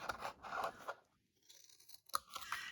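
Scissors snip through scored paper pieces for a small handmade box, giving close, crisp cutting strokes in two bursts separated by a brief pause, with no talking.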